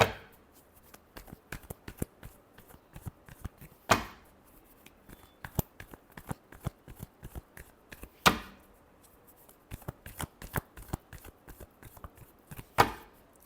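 Tarot cards being shuffled in repeated quick riffling bursts, crisp and close, with a sharper bridge-like snap roughly every four seconds; no talking.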